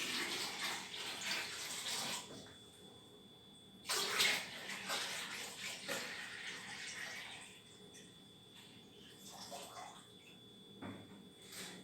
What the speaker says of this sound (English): I can get some water from my faucet. As you can observe, some water from my faucet. I can pour it in.